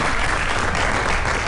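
An audience at a military retirement ceremony claps, a brief burst of dense, steady applause filling the room.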